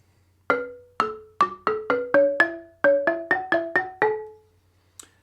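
Fifteen-key amadinda log xylophone struck in a quick series of a dozen bright, wooden, decaying notes in uneven rhythm, then a single faint tap after a pause.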